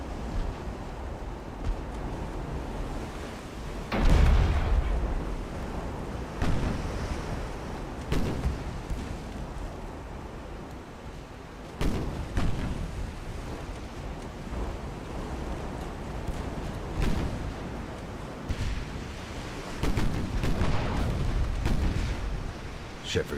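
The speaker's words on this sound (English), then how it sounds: "Oh, the guns on the Wuchan." Warship guns firing in Ultimate Admiral: Dreadnoughts naval battle, heavy booming salvos rolling out over a constant sea-and-wind backdrop, scattered across the stretch with someone talking at times.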